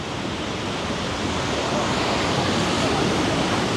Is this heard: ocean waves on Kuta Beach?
yes